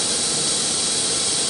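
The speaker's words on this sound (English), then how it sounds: "This button is to turn on the spindle and make it" The spindle of a China-made CNC router running on a SYNTEC controller, giving a loud, steady high-pitched whine with a broad airy hiss, continuous and close.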